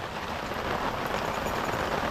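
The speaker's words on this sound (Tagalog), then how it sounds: "Nabutan kayo ng malakas na ulan." Heavy rain pours steadily in an afternoon downpour, a dense, even hiss of falling water heard from nearby with no voices and no breaks.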